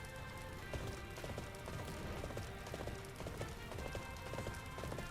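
Horses galloping in the video game Arslan: The Warriors of Legend, a steady clatter of many hooves under continuous battle noise with game music, with no one talking.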